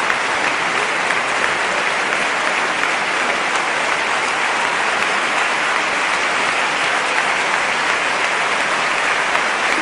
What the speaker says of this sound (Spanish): ahí está recibiendo la ovación Fabio Biondi